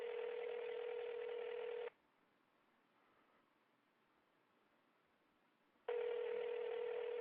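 A telephone dial tone after a disconnected call, a steady buzzing tone for about two seconds, then near silence, then the tone returning.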